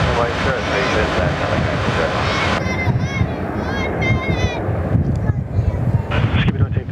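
Qantas Airbus A330 taking off from runway 03 at Perth Airport, a loud broadband engine roar with wind buffeting on the microphone, and people talking over it as the noise shifts and thins.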